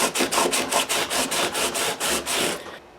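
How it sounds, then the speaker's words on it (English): Sandpaper on a flexible vinyl block scrubs back and forth across the frets of a guitar during a fret dress, about a dozen rhythmic rasping strokes, close and steady, then a brief quiet at the end. "This flexible vinyl actually distorts and slurs over top of those crowns and allows you to sort of scrub"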